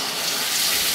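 Water from a driveway hose or tap rushing into a bucket and spilling over the rim, a loud, steady, close hiss of gushing water with no pauses.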